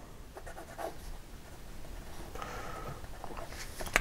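A Venvstas Magna fountain pen with a medium stainless steel nib writes on paper, its soft scratchy strokes coming in short close bursts and a steadier run toward the end, alone with no voice.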